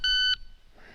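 A shot timer gives a single sharp electronic beep to start a handgun draw, loud and close, lasting about a third of a second, followed by quiet room ambience.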